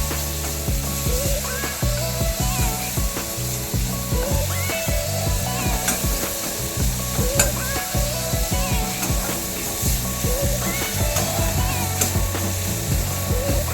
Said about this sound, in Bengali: আদা রসুনের পেস্টটা দিয়ে একটু ভালোভাবে নাড়তে হবে, যাতে কাঁচা গন্ধটা চলে যায়।